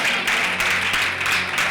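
Applause from a church congregation during a sermon, a steady broadband wash of many hands clapping together, fairly loud and continuous with no distinct individual claps standing out.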